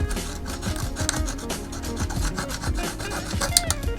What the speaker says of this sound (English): Let's see if we could just scrape it off.